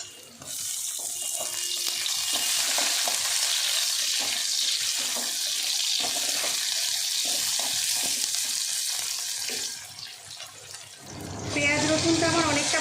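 Elephant foot yam leaves fry in a pan with tomato, giving a close, steady hissing sizzle that drops off near the end as a voice briefly speaks.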